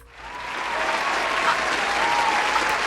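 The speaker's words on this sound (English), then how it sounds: "I think I deserve a round of applause" Sustained applause from a crowd swells in within the first half second and holds steady and loud throughout, with no talking over it.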